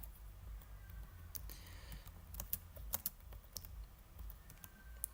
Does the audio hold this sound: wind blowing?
no